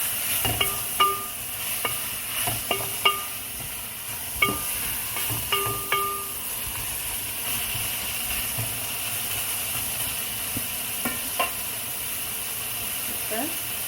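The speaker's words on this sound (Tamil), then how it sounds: "இப்போ நாங்கள் இந்த எண்ணெயில் தான் இந்த பாவக்காயை பொரிய விட போகிறோம்" Bitter melon frying in hot oil for a Sri Lankan pirattal, a steady close sizzle and hiss running throughout, broken by occasional metallic clinks and scraping taps of a stirring spoon against the pan.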